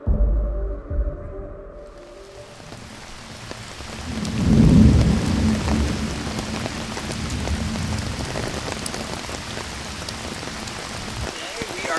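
A June thunderstorm in the North Woods: heavy rain pours steadily on surfaces while a deep thunder rumble swells and rolls near the middle, loud and close.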